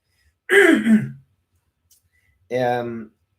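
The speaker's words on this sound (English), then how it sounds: "I usually don't cough in my hand anymore" Two separate throaty bursts, the first rough and broken, the second shorter and more voiced, with a quiet pause between them and no talking.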